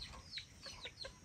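Several short hen clucks at close range, spaced a few beats apart against a quiet outdoor background.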